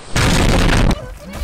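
A grenade exploding in the video game Overwatch, one loud, close, sustained boom lasting under a second before dropping away to quieter background noise.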